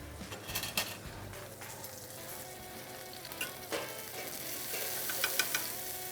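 Salmon frying skin-down in a pan with butter, a continuous close sizzle and crackle with scattered clicks and scrapes from utensils, with no talking.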